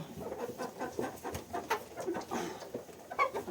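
A hen clucks nearby in a steady stream of short, choppy calls, with no pause over several seconds.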